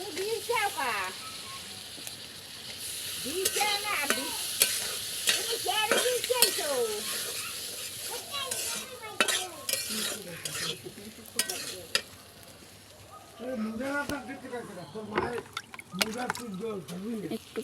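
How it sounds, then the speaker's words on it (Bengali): Potatoes frying and being stirred in a pan of hot spiced oil: a scraping, sizzling bubbling that comes and goes, partly under a voice talking. "আলুগুলো দিয়ে ভেজে নিচ্ছি।"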